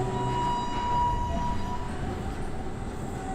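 A train ride in a video game gives a steady, close rumble of rolling rail noise with a faint tonal hum, continuous and unbroken with no one talking.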